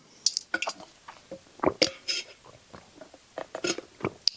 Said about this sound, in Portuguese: Beber um pouquinho mais de água.